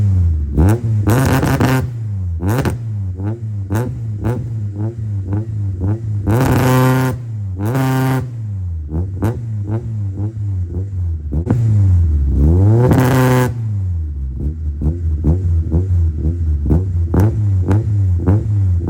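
A K24 engine swapped into a car warms up at a rumbling idle, broken by several sharp revs that climb and fall back, loud and close throughout.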